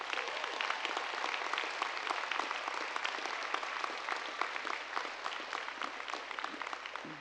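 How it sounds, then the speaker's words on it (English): A large audience at a 2015 university commencement ceremony at UW-Madison applauds in a continuous, dense wash of clapping that sounds somewhat distant and steady throughout. "let's give them another round of applause"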